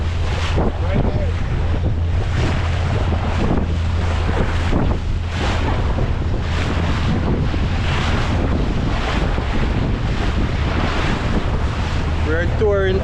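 Pacific Ocean waves slap against a tender boat off Cabo San Lucas while strong wind buffets the microphone in a constant loud roar, with a steady engine hum underneath and brief voices near the end.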